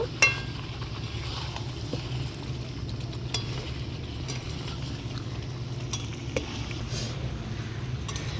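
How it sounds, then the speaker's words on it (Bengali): Fried potatoes and goat meat stir-fried together in a pan, a soft steady sizzle with faint utensil clinks scattered through, quiet and without speech. "ভেজে রাখা আলুগুলো দিয়ে দিলাম এবার আলুগুলো দিয়ে আমি এবার একটু ভালো করে কষিয়ে নেব"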